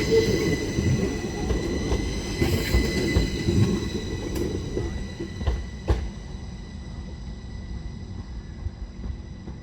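The Midland Pullman train rolls past on a local railway line, a heavy rumbling rush of wheels and carriages with metallic squeals and a few sharp clacks, loud at first and gradually fading as it moves away.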